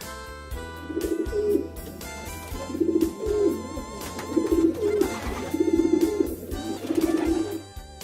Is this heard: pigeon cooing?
yes